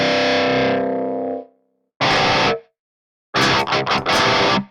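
Electric guitar played through a Revv G2 overdrive pedal, giving thick, driven tone: one long ringing chord that fades, then a short chugged chord and a burst of palm-muted riffing, loud and alone, separated by silent gaps.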